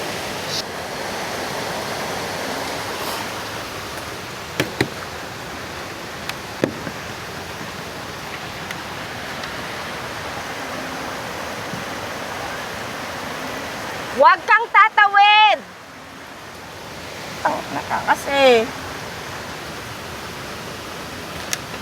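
A strong stream current rushes at night in a loud, constant roar, while people shout briefly over it near the middle and again toward the end.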